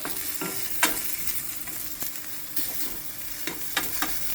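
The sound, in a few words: coriander being roasted in a pan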